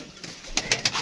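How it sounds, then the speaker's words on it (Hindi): Teddy pigeons coo softly on a rooftop, a few short rising calls in quick succession over faint background noise, with no one speaking. "ये देखें जी टैडी कबूतर खरा कबूतर है"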